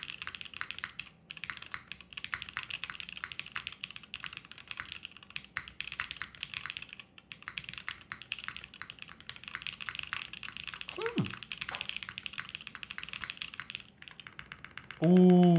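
A custom mechanical keyboard with solid alpha keycaps clacks under steady, fast typing, close and continuous, with a brief voice murmur near the end.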